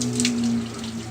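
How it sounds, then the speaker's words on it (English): An upstairs bath draining water, a steady soft gurgling trickle with a low hum underneath, close and continuous with no talk. "The bath, which is just draining."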